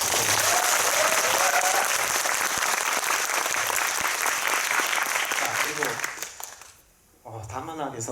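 Loud, sustained applause from a cinema audience at a film Q&A session, dense clapping filling the room for several seconds before fading, then a voice and a few claps returning near the end.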